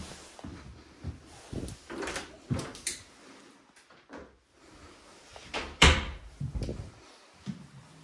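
A linen closet door in a full bathroom of a twin home being handled, with a few soft knocks and thuds, then a sharper close or latch click, followed by quieter shuffling in the room.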